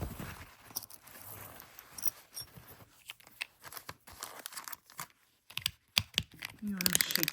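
A paint bottle is shaken so its mixing ball rattles inside, giving irregular clicking and knocking bursts with brief pauses, close and fairly faint, plus a few crinkling rustles.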